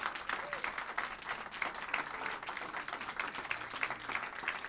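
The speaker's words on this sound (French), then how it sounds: "Est-ce qu'on peut les applaudir et les bénir en Jésus?" Sunday church congregation breaks into sustained applause, a steady, textured wash of many hands clapping throughout, with faint crowd murmur and a brief voice underneath.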